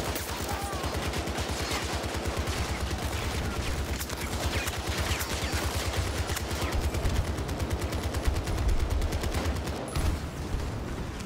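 M60 machine gun fire in Battlefield 2042, long sustained bursts of rapid rhythmic shots, loud and close, continuing almost without pause.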